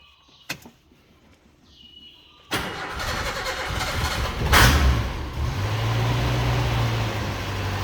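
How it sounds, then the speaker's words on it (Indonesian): A used car's engine cranks and catches after a short quiet stretch, then settles into a steady, smooth idle with a low hum close by. "Terdengar mesinnya halus."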